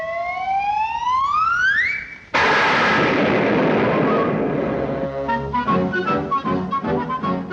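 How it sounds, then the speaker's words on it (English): A cartoon explosion effect in an old animated short: a rising whistle climbs for two seconds, then a sudden loud blast roars and decays into crackling, rattling debris with no one talking. "you're going to hear the doggonest explosion you ever heard."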